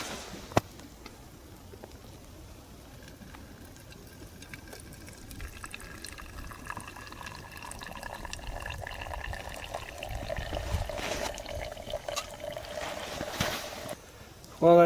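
Hot water poured slowly through a coffee filter at a winter camp, a steady soft trickle and splash that grows fuller toward the end, heard up close with light outdoor background noise.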